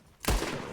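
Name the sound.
gunshots in Red Dead Redemption 2 video game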